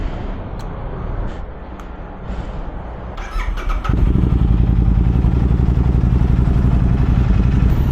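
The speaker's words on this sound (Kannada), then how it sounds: "ಫಸ್ಟು ಕೋಲ್ಡ್ ಸ್ಟಾರ್ಟ್ ಮಾಡಿ ಬಿಡೋಣ" A Royal Enfield Interceptor 650 motorcycle makes a cold start: a few faint clicks, then the engine catches and settles into a loud, steady idle nearby.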